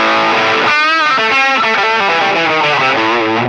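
An electric guitar run through a Line 6 POD Express amp and pedalboard modeler with full distortion plays a loud, saturated phrase of sustained, bending notes, close and alone.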